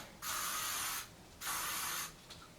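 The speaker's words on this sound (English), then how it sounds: "I'm going to use this Nero Heat Protector Spray." Two short hissing bursts from a spray bottle, each lasting under a second, close up and separated by a brief pause.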